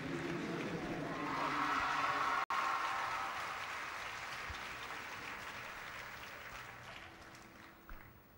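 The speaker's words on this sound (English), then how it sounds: "With the crowd showing their appreciation for Great Britain's Beth Tweddle" A crowd at the 2007 Glasgow Grand Prix gymnastics competition applauds a gymnast, steady distant clapping that gradually fades out over several seconds.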